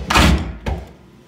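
A house door is handled with a heavy wooden thud, then a second, softer knock a moment later, close and loud with no talking.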